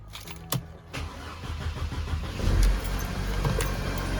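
Audi A5 with crash damage and freshly refitted heat shields and O-ring cranks and fires up, a brief starter whir settling into a steady, close idle hum that swells slightly midway.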